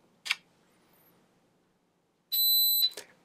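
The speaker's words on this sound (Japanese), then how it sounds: "これがショットタイマーって言うんですね" A smartphone shot-timer app gives its start beep: a single steady electronic tone, loud and close, lasting about half a second, with a brief click before it and quiet room noise around it.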